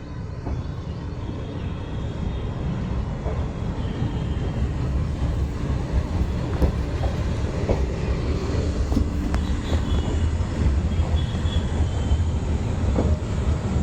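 A metre gauge train pulls out of Junagadh on the line toward Chalala, a steady low rumble of rolling stock and track noise filling the whole stretch at an even level, heard from on board.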